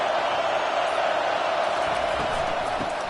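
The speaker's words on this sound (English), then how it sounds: "This crowd, full throat, splitting the eardrums" Full-throated stadium crowd roaring in a video game broadcast of a football play, a dense, loud, steady wall of cheering and noise holding for the whole stretch.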